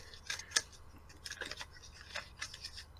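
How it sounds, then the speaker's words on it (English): Paper notes are shuffled during a podcast recording, a few quiet, crisp rustling and flicking bursts close to the microphone, with no voices. "Shuffling through your notes."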